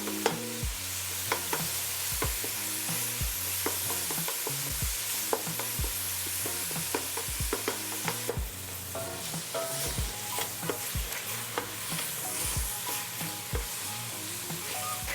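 Vegetables sweat and sizzle in a pan for a baked ziti sauce, a steady frying hiss running throughout with repeated sharp clicks and knocks of stirring utensils against the pan.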